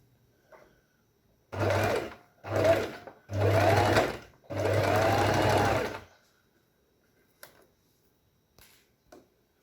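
A sewing machine stitches a fabric pencil case in four close motor bursts of rising length, then falls quiet apart from a few faint clicks.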